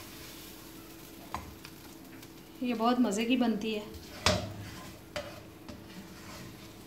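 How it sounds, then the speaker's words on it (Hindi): Achari arvi curry is scooped from a pan into a serving dish, with soft stirring and scraping, a loud clank of a utensil against metal, and a few lighter clinks, while someone talks briefly in between. "ये मैं इसको अब डिश में निकाल रही हूँ।"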